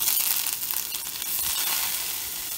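Butter sizzles loudly in an overheated cast iron skillet, a dense, steady crackling hiss that holds from start to finish with no talking.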